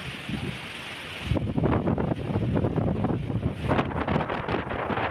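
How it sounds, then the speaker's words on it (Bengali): Strong wind from Cyclone Remal in the Sundarbans buffets the microphone, rising sharply after a quieter start into a loud, continuous roar with gusty surges near water. "বাতাস আরও বাড়ার সম্ভাবনা আছে।"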